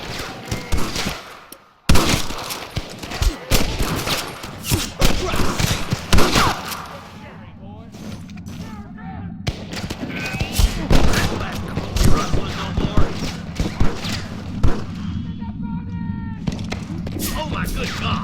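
Gunfire during a shootout with rustlers in the Red Dead Redemption video game, repeated bursts and volleys of shots over a busy mix of game sound, with voices shouting at times.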